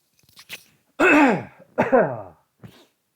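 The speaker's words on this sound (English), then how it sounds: "Sorry, guys, I keep coughing." A couple of harsh, throaty coughs close up, with small breathy sounds before and after, no talking.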